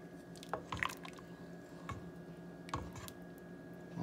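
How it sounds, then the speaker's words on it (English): Spoon stirring homemade hamburger soup in a hot pot, soft wet squishes and occasional scraping taps against the pot, quiet and intermittent over a low steady hum. "I'm going to stir it a little bit"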